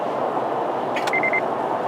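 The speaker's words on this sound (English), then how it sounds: "it'll beep at you and let you know that you shouldn't change lanes" A Mazda 3 blind spot monitor gives a brief warning when the turn signal is on with a car in the blind spot: a short chime, then a quick run of four small beeps over steady road hum.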